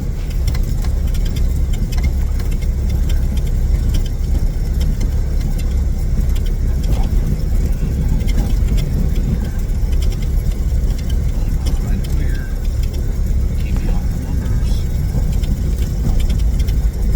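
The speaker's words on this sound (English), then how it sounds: "I'm back taxiing back to the end of the runway to use all the runway here" A small airplane taxis back to the end of the runway, its engine giving a steady, loud, continuous rumble that fills the whole stretch with a constant low drone.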